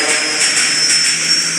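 An airplane engine in the Granny video game roars steadily at takeoff, a loud continuous whine with a high tonal hiss that holds without pause.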